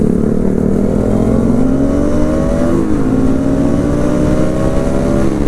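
A Bajaj Pulsar NS200 BS7 motorcycle engine with its catalytic converter removed revs loudly and close by, its pitch climbing and falling in smooth sweeps over a constant rumble, with no voices.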